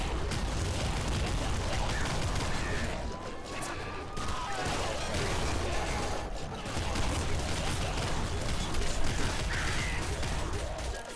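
Chaotic gunfire and explosions in the video game Nuclear Throne, a dense continuous roar of blasts and crackling with no break, loud and busy throughout.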